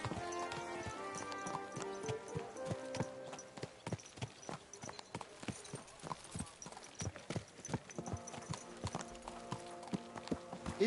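Horse hooves clip-clop in a steady walking rhythm in the video game Kingdom Come: Deliverance II, with occasional music or tonal effects in the background.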